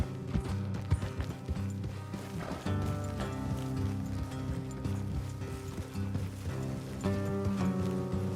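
Horses' hooves clip-clop in a steady trotting rhythm beneath a continuous musical score, with faint mechanical creaks, in the video game Red Dead Redemption 2.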